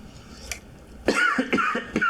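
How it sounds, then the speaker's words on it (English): A man coughs several times in a row, harsh, close bursts with some throat-clearing, over a steady low background hum. "If I'm coughing a great deal this evening, I apologize."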